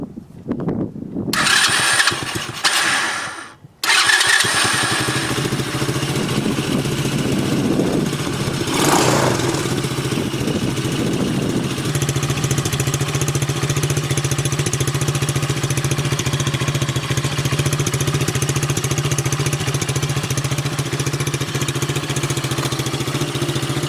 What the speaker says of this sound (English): can't get over how good that little Daymac China motor, can't get over how good it runs